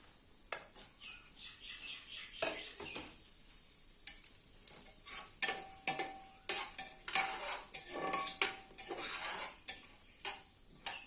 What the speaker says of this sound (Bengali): তেজপাতা গোটা গরম মশলা দিয়ে দিচ্ছি সাদা জিরে